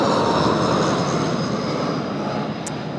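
An airliner takes off from runway 16 right at Sydney Airport, a broad, continuous roar of jet engines at moderate distance, steady and slowly easing off.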